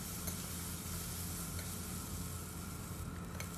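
Okra (bhindi) cooking in a karahi over a low flame gives a steady, quiet sizzle with faint stirring scrapes, continuous and close, with no voices.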